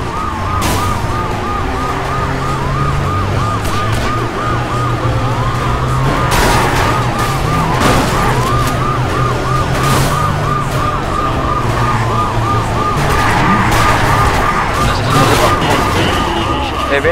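Police car siren in the video game Wheelman, a loud wailing electronic siren cycling repeatedly over engine rumble and game noise, with someone talking intermittently over it.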